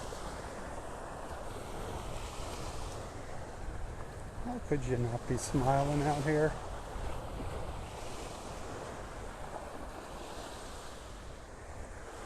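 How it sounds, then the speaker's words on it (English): Steady surf washes over a beach in North Naples, Florida, amid gusty wind noise, while a person speaks briefly in the middle. "Sun shining on your face, the sound of the waves."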